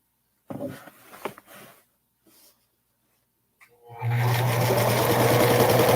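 A sewing machine stitches a non-binding edge quilt, starting after a few soft handling sounds and then running steadily with a close, constant mechanical whir to the end.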